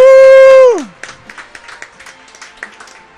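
A church congregation at a worship and intercession service claps in scattered, uneven bursts after a long sung or shouted voice fades out, the clapping fairly light and sparse rather than a full roar.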